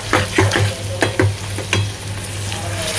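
Prawns with chili sautéed in a pan, loud close sizzling with brisk rhythmic scraping and stirring strokes, plus a steady low hum underneath, with no speech.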